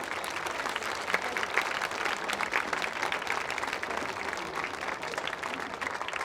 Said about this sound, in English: So big round of applause for Glenealy